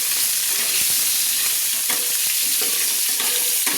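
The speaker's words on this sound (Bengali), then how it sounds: "আলুগুলো ভেজে নেওয়ার জন্য লাল লাল করে আমি নেড়ে নিচ্ছি।" Potato chunks with turmeric and salt fry in hot oil and are stirred with a spatula, with a steady close sizzle broken by repeated scraping strokes.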